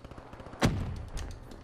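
A single loud gunshot in a 2v2 first-person shooter match, sharp and close, with a short decaying tail over faint background game noise.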